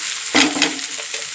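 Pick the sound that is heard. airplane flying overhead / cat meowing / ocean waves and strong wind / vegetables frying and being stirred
vegetables frying and being stirred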